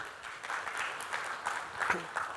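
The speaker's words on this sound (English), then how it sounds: "A big round of applause for him." Brief applause from a seminar audience on investing for a member who answered a quiz question, a soft, fairly distant patter of clapping lasting a couple of seconds.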